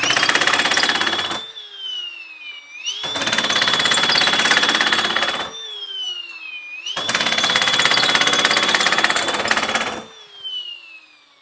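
A Milwaukee M18 FUEL 10-gauge nibbler cuts 18 gauge stainless steel in three loud, close bursts of rapid chattering punching, with a whining motor that drops in pitch under load and short pauses between cuts.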